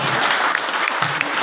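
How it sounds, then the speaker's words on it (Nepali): Audience clapping at a morning gathering, a brief, steady burst of applause from a room full of people, fairly close and even throughout. "उहाँको कमिटमेन्टको लागि चाहिँ जोरदार ताली हुन्छ उहाँको लागि"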